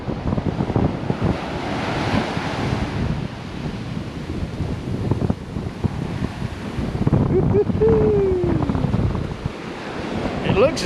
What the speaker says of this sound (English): I've noticed that the waves are reaching a little further up and a little further up.